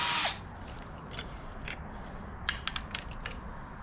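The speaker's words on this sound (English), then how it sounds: "2 screws again, T25, very easy." A power screwdriver drives T25 screws on the handlebars of a 2023 Harley-Davidson Street Glide. A short, loud whir is followed by faint handling noise and a few light metallic clinks nearby.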